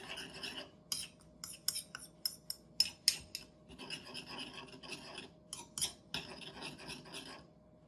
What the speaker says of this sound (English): I'm just stirring it up.